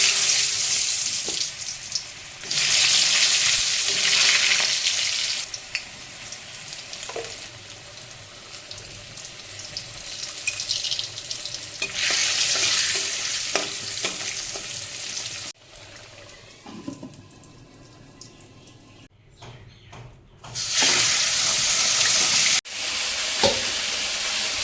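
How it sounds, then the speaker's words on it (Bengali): Mutton sizzles in mustard oil with onion and garlic paste, loud bursts of frying alternating with quieter stretches and occasional stirring scrapes, close up. "সরষের তেল দিয়ে রান্না করবো মটন।"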